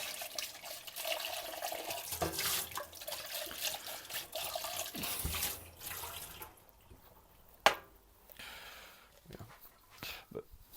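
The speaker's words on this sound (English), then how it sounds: "We'll just rinse out the jug." Water from a kitchen tap runs into a jug as it is rinsed out, a gushing splash that fills the first six seconds, then thins to drips and small knocks.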